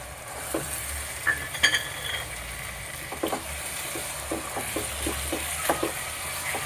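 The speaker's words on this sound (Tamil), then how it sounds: "அவ்வளோத்தையும் கிளறி விட்டுட்டு மூடியை போட்டு" Yogurt curry mixture being stirred in a pan, a steady low sizzle with soft, irregular scraping strokes and light clinks throughout, close and fairly quiet.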